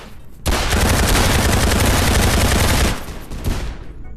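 Gunfire in a Roblox VR game comes as a loud, dense, continuous burst lasting about two and a half seconds, then fades into a quieter trailing rattle with one last shot near the end.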